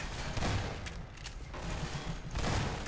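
Gunfire in the Half-Life mod Minerva Metastasis, a few sharp reports over a low mechanical rumble during an indoor firefight, fairly quiet and spread unevenly across the moment.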